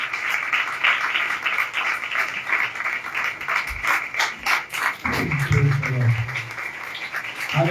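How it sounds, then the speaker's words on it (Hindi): A church congregation gives loud, sustained applause. A voice speaks briefly near the end while the clapping fades. "इल्हाम के लिए जोरदार तालियां बजाएं।"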